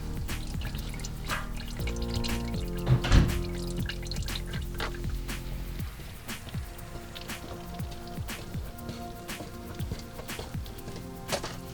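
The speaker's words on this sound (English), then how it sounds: "You're just going to let that drain until it's just slightly dripping" Engine oil drains from a 2004 Honda Odyssey, a steady trickling pour with scattered drips and splashes, close by, with faint background clatter and tones underneath.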